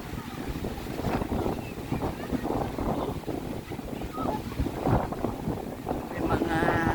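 Gusty wind buffets the microphone on a lake shore beside a beach during a camping trip, a loud, rumbling, uneven roar that swells and dips throughout, with some faint voice-like sounds mixed in.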